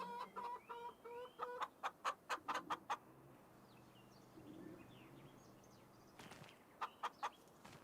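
Chickens in the video game Farming Simulator 25 cluck in short rhythmic bursts, faint and a little distant, with quieter low murmuring clucks between the runs.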